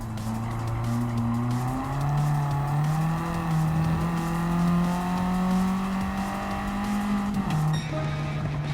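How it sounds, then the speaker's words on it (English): A race car in a racing video game accelerates through its gears, the engine note climbing steadily in pitch with a brief dip at a gear change near the end, loud and continuous with no talking. "I really love the sound of this car as it accelerates"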